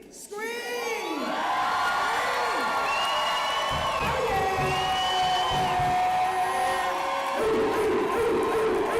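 A large outdoor rally crowd at the Oklahoma State Capitol screams and cheers all at once, a loud sustained roar of shouts and whoops that holds steady throughout.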